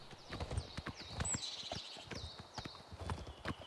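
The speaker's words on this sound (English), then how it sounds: "horse riding is one of the few really bad aspects of the game" Horse hooves clip-clop in a steady rhythm while a horse is ridden in the video game The Elder Scrolls IV: Oblivion Remastered, close and fairly loud, with occasional higher game sounds on top and no talking.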